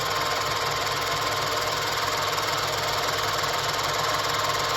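A milling machine with its motor speed raised for a finish cut machines 45-degree chamfers on flask ends, producing a loud, continuous whirring drone with a steady mechanical hum and no pauses.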